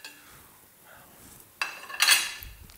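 A simmering pot set down on the cooking plate of a Lacanche range cooker, a soft metallic scrape followed by a brighter clinking clatter of cookware, fairly close in a quiet kitchen.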